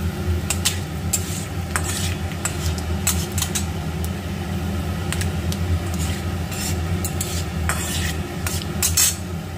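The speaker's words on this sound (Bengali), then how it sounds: "ফোড়ন হিসেবে আমি জাস্ট সাদা জিরেটাই দিলাম" Whole white cumin seeds sizzling in hot oil as a tempering, a steady close hiss with occasional sharp pops and clinks of a utensil against the pan.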